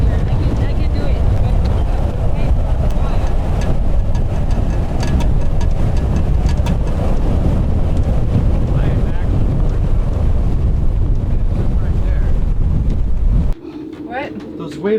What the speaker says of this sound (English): Those waves are huge.